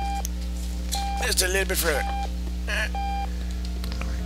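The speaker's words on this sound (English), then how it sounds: "Oh, alarm clock. Hello, alarm clock. Can I silence thee?" Alarm clock in the video game Octodad: Dadliest Catch gives repeated short electronic beeps in a steady rhythm over game background hum, while someone talks over the middle.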